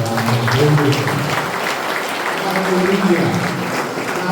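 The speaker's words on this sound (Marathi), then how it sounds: "आपण टाळ्या वाजवतो" A church congregation claps hands together in a dense, continuous roar of applause, with voices mixed in throughout.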